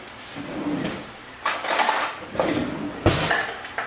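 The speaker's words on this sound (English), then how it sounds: "I'll grab a teaspoon" A kitchen drawer slides open and shut with rattling scrapes as a teaspoon is grabbed from it, several short close bursts separated by brief pauses.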